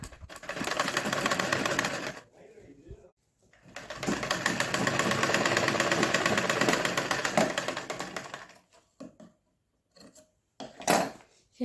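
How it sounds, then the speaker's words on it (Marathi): A sewing machine runs in two long bursts of steady stitching, topstitching folded fabric petals for a decorative lotus-shaped seat. A brief pause separates the bursts, and a few short stops and starts follow. No one speaks. "आता ह्याला वरतून शिलाई मारून घेऊ, म्हणजे व्यवस्थित आकार येईल"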